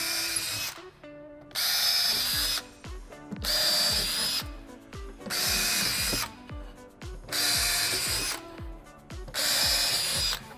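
Power drill boring holes into a wooden drawer box, five loud whining bursts of a couple of seconds each, separated by short pauses with faint clicks.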